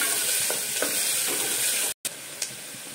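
Thinly sliced onions frying in oil in a pan for an aloo and beans curry, a loud, even sizzle with a few stirring knocks and a brief gap, close up and without talk.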